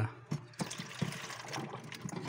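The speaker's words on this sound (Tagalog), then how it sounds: "Buhusan natin ng tubig" Water pours and trickles steadily for a couple of seconds, close by, with some splashing bursts, poured under a leaking Panasonic refrigerator.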